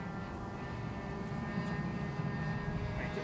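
A small propeller airplane in flight drones with a steady, continuous engine sound filling the cabin, even and unbroken, with no talking.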